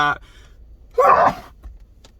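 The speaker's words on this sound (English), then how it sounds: "I'm going to sneeze." A single sharp, breathy sneeze bursts out close by, short and forceful, after a quieter voiced breath.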